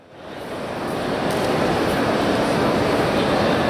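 A Siemens series 251 electric locomotive rolls into position at a station, a steady broadband rumble that swells in the first half second and holds loud and continuous throughout.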